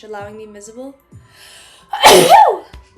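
A single loud, sharp sneeze bursts out close by after a stretch of calm narrated speech, followed by a short pause.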